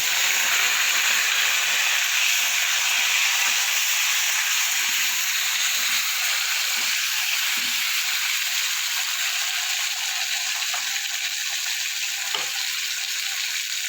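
Chopped tomatoes hit a hot pan of yardlong beans and potatoes, setting off a loud, steady sizzle and hiss of frying that carries on evenly without a break, with no talking.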